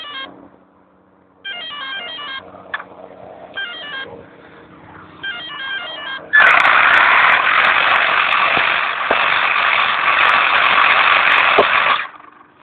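An RC10T4 radio-controlled truck with a Mamba Maxx 5700KV brushless motor makes stuttering electronic beeps, then lets out a loud, sustained high-pitched whine as it drives fast for about six seconds before cutting off.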